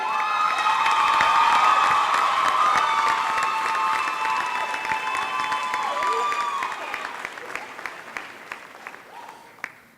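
Graduation audience at a high school ceremony applauding and cheering loudly, with whoops and shouts over dense clapping early on, then the applause thins to scattered claps as it fades.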